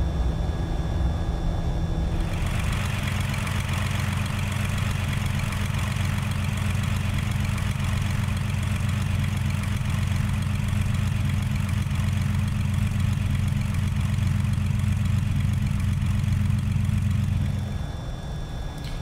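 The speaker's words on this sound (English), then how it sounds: "So I'm going to continue taxiing the 177 to runway 16" A single-engine Cessna 177 aircraft idling while it taxis toward the runway, a loud, steady low drone heard from inside the cabin, with a brief shift in the engine note near the start and fading at the end.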